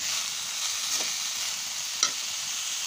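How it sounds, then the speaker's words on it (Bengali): Steady sizzling from a hot pan of red amaranth greens with chilli and onion, with a couple of soft scraping clinks as it is stirred around. "এখন মরিচ পেঁয়াজের সাথে ভালো মিক্স করে দেব।"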